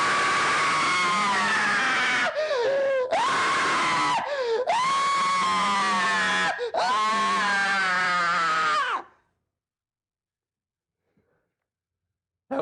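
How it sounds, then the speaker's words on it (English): A man's prolonged, harmonic scream from the documentary American Movie, loud and sustained in several bursts with short breaks, then cut off into silence for the last few seconds. "I laugh so hard every time Mike Shank does his scream"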